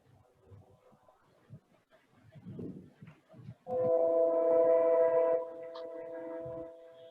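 A train horn sounds near train tracks, entering after soft background murmur and noise with a loud sustained multi-tone blast that tapers to a steadier held tone, fairly close and prominent.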